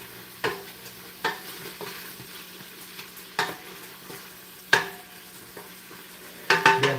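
Bacon and Italian sausage frying together in a pan, a soft steady sizzle broken by several sharp clinks and scrapes of a utensil stirring against the pan, with a louder clatter at the end.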